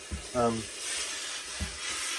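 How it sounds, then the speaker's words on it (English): Steam hisses onto a black Borsalino felt fedora, a soft broad hiss running steadily close by, broken by a couple of brief low thumps and a short tonal whine. "we'll see what happens when I put some steam on here"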